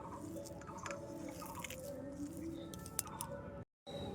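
Sweet potato is mashed by hand for jalebi, a close, continuous soft squelching and squishing with a brief dropout near the end.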